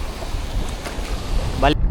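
Choppy sea waves and gusting wind surround a small fishing boat out on open water, with a rough, rumbling wind buffet against the microphone throughout a brief moment.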